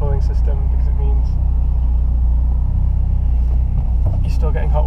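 A Peugeot 106 Rallye drives through town, its engine a steady, close rumble throughout, with a voice talking over it.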